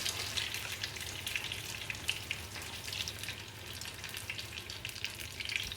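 Wrapped money-bag dumplings deep-fry in a wok of oil heated to about 180 degrees, a soft, continuous bubbling sizzle with faint crackles, quiet and without speech.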